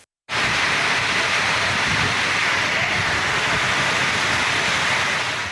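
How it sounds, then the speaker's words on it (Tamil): Heavy summer rain pouring down hard enough to flood the streets, a dense, steady hiss and roar that starts abruptly after a brief silence and continues without pause. "கோடை மழை கொட்டியதால் தெருக்களில் மழைநீர் பெருக்கெடுத்து ஓடியது"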